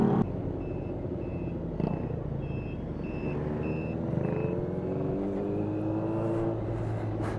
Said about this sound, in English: That bike has a very strange, like, alarm thing going on.